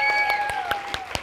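A church audience at a Sunday praise service claps in a steady burst, with individual claps fairly close and distinct.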